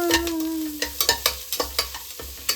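Onion frying in a pan while a spoon stirs it, a steady sizzle broken by a series of sharp scraping stirs that come roughly every quarter second, close up, with a brief tonal hum near the start.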